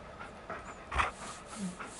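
A dog in Far Cry Primal on PS4 pants in quick, soft, rhythmic breaths, close but quiet, with a few louder puffs and no talking.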